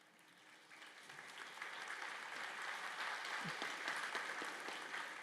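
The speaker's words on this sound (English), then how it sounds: "then we're going to applaud them" An audience at a Calhoun Community College nurses' pinning and candle lighting ceremony applauds hospital representatives, a sustained, even roar of many hands that swells slightly and holds, heard from a little distance.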